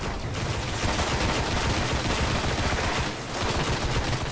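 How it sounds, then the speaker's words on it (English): Sustained machine gun fire in the Destiny video game, a dense continuous rattle of rapid shots filling the whole stretch with a brief dip near the end, loud and close with no talking. "Need a better machine gun!"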